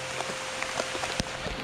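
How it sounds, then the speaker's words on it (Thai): Rain falls on a waterfall hiking trail, a steady close hiss broken by scattered sharp drop taps. "ตอนนี้นะฝนตก"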